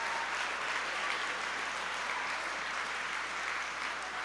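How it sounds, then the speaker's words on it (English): Audience applause at a commencement concert, a steady even wash of many hands clapping at moderate distance, continuous for several seconds without voices. "That's worth a round of applause"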